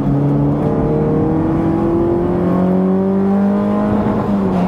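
Toyota Vios GR race car with a 5-speed manual gearbox, its engine screaming loudly at high revs from inside the cabin, the pitch sliding steadily as it over-revs.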